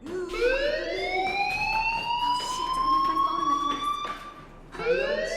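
A school fire alarm in the video game Life is Strange wails continuously with a rising electronic siren tone, loud and steady, breaking briefly near the end before sounding again.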